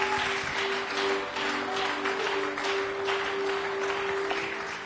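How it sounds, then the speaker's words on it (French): Church congregation at a healing and deliverance service applauding, a dense sustained patter of many hands clapping at moderate loudness with a steady tone underneath, tapering slightly toward the end. "On acclame pour le Seigneur"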